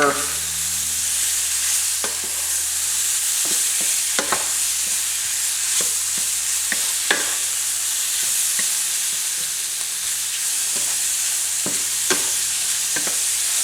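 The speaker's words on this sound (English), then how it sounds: "Now we are going to add in some minced garlic. I'm going to give that a quick stir." Shrimp and minced garlic crackle in a hot pan and get a quick stir. A steady sizzle runs under sharp scraping clicks that come at irregular intervals. No one speaks.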